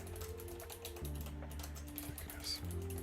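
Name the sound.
typing a keyboard shortcut on a computer keyboard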